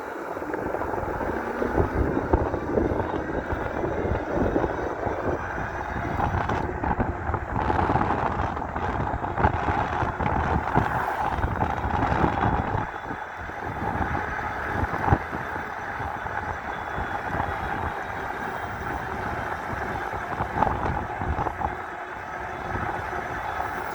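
Continuous whirring ride on a 5000-watt e-bike powered by its rear motor alone, with a steady motor whine mixed with heavy wind rush and road rumble for the whole stretch, with no talk.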